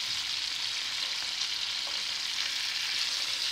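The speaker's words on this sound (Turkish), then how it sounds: "bu tarafları da pişireceğiz" Brussels sprouts fry in a pan with no added oil, giving a steady, loud, close hiss of sizzling that holds evenly throughout, with no voices.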